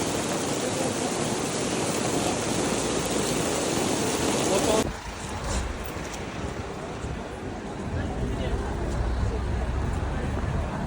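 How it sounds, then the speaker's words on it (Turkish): Hail pelts down steadily during a motorcycle trip in Greece, a dense loud hiss of impacts that drops abruptly partway through before continuing more softly. "Hep dolu yağıyor bak."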